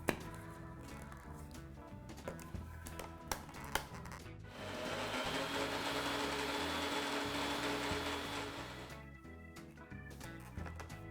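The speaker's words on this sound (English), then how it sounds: "add it to a small grinding jar so that making a powder of it is really simple" An electric grinder jar whirs steadily for several seconds as it grinds about two tablespoons of green tea leaves into powder, preceded and followed by scattered taps and handling sounds.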